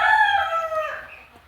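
A rooster, one of the meat-raised cockerels fed on wheat, crows once up close, a single drawn-out call that fades away at the end.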